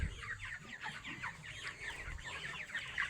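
Chickens about 32 days old cluck and chatter on a poultry farm while birds are being caught, a busy overlapping chorus of short calls at moderate distance over low background rumble.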